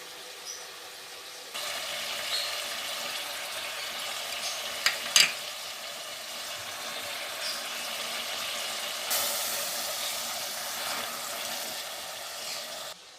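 Ginger garlic paste and large garlic cloves sizzling in hot oil in a pan for stuffed karela, a steady close frying hiss that grows louder partway through, with a brief clink of a utensil near the middle.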